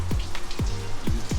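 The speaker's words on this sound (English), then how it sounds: "It's literally been raining for 2 or 3 days." Rain drips steadily inside a leaking house, with about half a dozen distinct close drops landing in an uneven rhythm over a soft background hiss.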